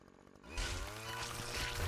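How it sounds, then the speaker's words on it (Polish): A lawnmower engine revs up loudly and steadily after a brief quieter start, used as a weapon in the horror video game Terror at Oakheart. "I lecimy z kosiarką."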